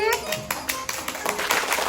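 Children clap in quick scattered bursts in a classroom, several hands at once, with a voice rising underneath and a little chatter around the clapping.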